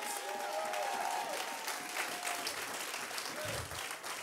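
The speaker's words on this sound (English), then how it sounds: "If you have been transformed by God, I need you to clap just a little bit." A church congregation claps in dense, sustained applause with crowd murmur mixed in, fairly loud and continuous, and a faint tonal line sliding through the background.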